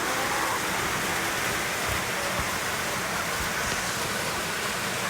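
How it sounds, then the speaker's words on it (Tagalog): Heavy rain pours down in a dense, continuous roar, steady and loud throughout with no breaks. "lakas ng ulan"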